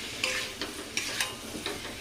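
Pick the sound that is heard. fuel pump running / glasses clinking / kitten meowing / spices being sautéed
spices being sautéed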